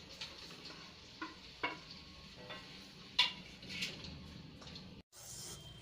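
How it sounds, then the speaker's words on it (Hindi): Mawa (khoya) is stirred in ghee in a hot kadhai, with faint soft scrapes and occasional metallic taps of a spoon against the pan over a quiet, low background, sparse and intermittent. "कढ़ाई गरम है तो इसमें डाल देंगे पहले घी, और अब इसमें हम मावा डाल देंगे।"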